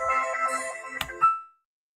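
A phone's electronic ringtone plays in a repeating tonal pattern, close and fairly loud, then cuts off sharply and leaves silence behind.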